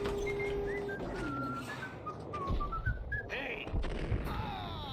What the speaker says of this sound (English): I thought I heard whistling